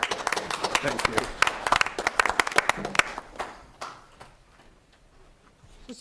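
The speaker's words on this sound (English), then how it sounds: "This is the most clapping we've done in a long time." Clapping from people at a city council meeting, a burst of sharp irregular claps that fades out after about three seconds, with faint talk and room noise underneath.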